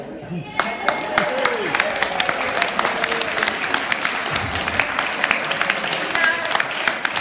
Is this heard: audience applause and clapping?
yes